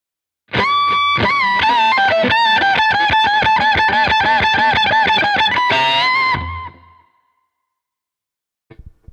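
An electric guitar plays a lick from a solo: a loud, sustained run of quick repeated notes with effects and slight distortion, ringing out for several seconds before cutting off, with a few faint clicks after.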